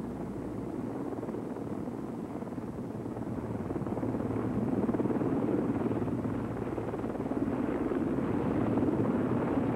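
A logging helicopter hauling timber gives off a steady, heavy rotor thrum and engine roar that swells slightly halfway through and holds loud and continuous, with no voices.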